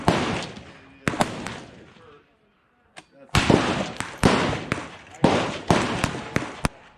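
A 6 Creedmoor rifle fires at an outdoor shooting session, giving a series of sharp, loud cracks that each ring out with a short decay. Other gunshots in the area add to the reports, and people talk between the shots.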